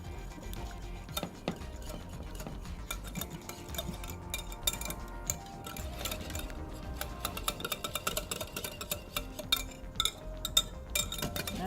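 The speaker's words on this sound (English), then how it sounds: "Okay, so there is our dressing for that. We'll whisk that up." Dressing for a crunchy edamame slaw with peanut butter whisked in a bowl, a busy run of quick metallic ticks and clinks from the whisk against the sides, steady and close, with no talk.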